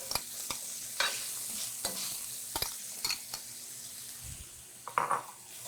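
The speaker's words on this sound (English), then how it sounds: "you're sweating down some onion" Diced white onion hissing and frying in rendered andouille sausage fat, a soft steady sizzle broken by several sharp scraping stirs and a clink or two of utensil against the pan.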